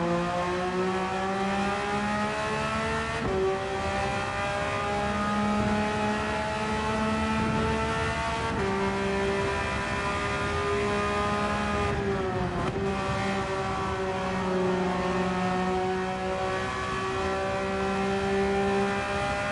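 A Caterham sports car in Gran Turismo 7 drives a lap, its engine note droning steadily with rising harmonic pitch through each gear and brief dips at shifts, loud and continuous with no talk.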